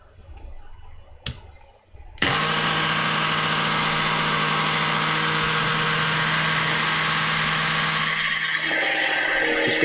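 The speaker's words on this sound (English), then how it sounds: "Going to drill nice and slow." An electric drill on a home-built 737 cockpit simulator part, starting abruptly after a brief click and then whirring steadily and loudly at a low speed, close by and alone.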